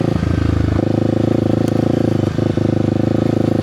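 A Kawasaki KLX300 dual-sport motorcycle rides over a rough, broken paved road, its single-cylinder engine droning steadily and loudly up close with a constant rumble, plus occasional clatter and jolts from the bumpy surface.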